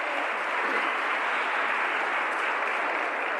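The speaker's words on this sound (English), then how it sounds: "This deserves a much louder applause." Audience applause at a memorial lecture held at a high school, a dense, steady wash of clapping from a crowd that holds an even level throughout, fairly distant and without voices.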